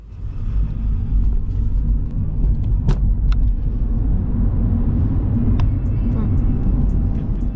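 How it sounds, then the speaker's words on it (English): Mini Cooper Electric, a 2023 model in Sport Mode, accelerating hard from 0 to 60 mph, heard from inside the cabin as a steady loud low rumble of road and motor noise throughout, with a few brief clicks. "Alright, are you ready for the 0 to 60?"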